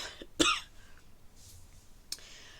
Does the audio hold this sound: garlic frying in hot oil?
no